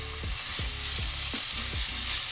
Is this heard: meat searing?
yes